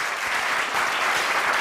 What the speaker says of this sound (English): where's the applause that usually goes on and on?